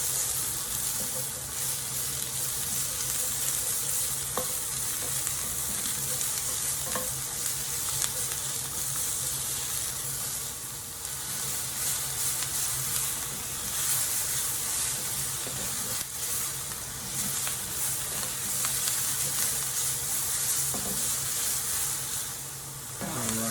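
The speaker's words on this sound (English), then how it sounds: "So I'm gonna saute these for about 3 to 4 minutes." Sliced peppers and onions sauteing in a pan for a pepper steak, a loud, continuous close sizzle with occasional faint stirring clinks, steady throughout and without talk.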